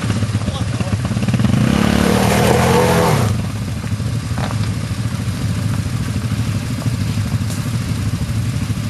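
A quad bike engine on a trail ride revs and accelerates loudly for about three seconds, then settles into a steadier lower drone, with voices talking over it.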